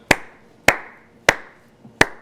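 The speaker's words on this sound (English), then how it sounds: "you guys at home, just clap along with me" Four single, evenly spaced claps about half a second apart, close and crisp, each with a short decay, a lone person clapping along at a remote concert for Nashville.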